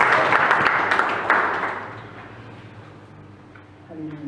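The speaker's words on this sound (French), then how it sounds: "Est-ce que vous pouvez acclamer pour vous-même" An audience applauding at a religious seminar on marriage: loud, dense clapping that gradually fades away, with a voice rising faintly at the end.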